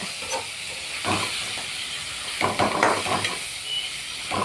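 Ingredients sautéing for chicken kulambu, a loud hissing sizzle in the pan with bursts of sharper crackle and spatula stirring, close and continuous.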